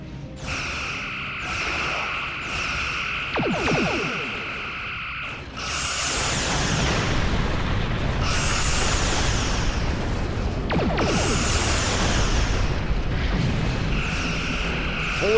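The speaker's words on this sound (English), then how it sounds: "Arming the heavy torpedo salvo." A heavy torpedo salvo fires in a Star Trek space combat game, with repeated whooshing launches and booming blasts layered over a droning ship hum, loud and close, with no talking.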